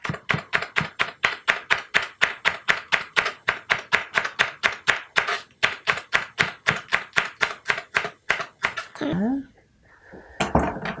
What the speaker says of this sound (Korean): 토핑하실 깻잎을 썰 때도 요거를 그냥 편으로 써는 것보다 이렇게 좀 접어서 써시면 더 효율적으로 잘 썰립니다.